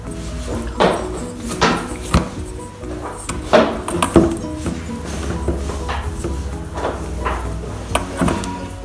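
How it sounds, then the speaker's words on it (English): Dough being mixed by hand in a bowl while cooking, heard as repeated knocks, scrapes and clatters of utensil against bowl in an uneven rhythm, close and moderately loud. "You continue mixing until the dough is good enough to make a ball."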